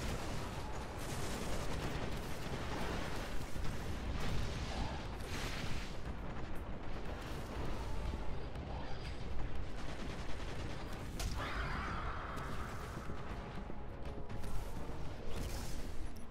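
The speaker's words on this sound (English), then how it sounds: "Who is shooting me?" Dense, continuous gunfire from the video game Destiny: The Taken King, during the Cayde's Stash mission, with overlapping bursts and booms throughout and no pauses, loud and busy from start to finish.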